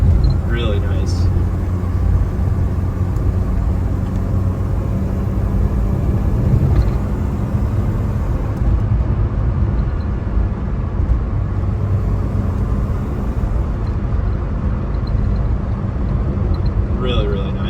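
A 1987 Saab 900 Turbo engine drones steadily while driving, a constant low rumble with road and wind noise throughout, and someone talks over it.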